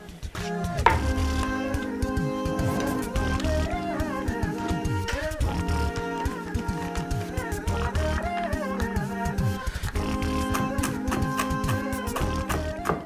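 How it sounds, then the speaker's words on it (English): Walnuts are chopped on a chopping board with a knife, making a steady series of light, quick taps close by under continuous background music. "I'll chop the walnuts one by one because I want them to be fine."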